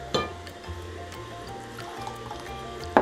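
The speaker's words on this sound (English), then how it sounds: "And then I'm going to add about 1 cup of water." Water pours into pizza dough in a bowl, a faint trickle and splash close by, with a couple of sharp clinks at the start and end.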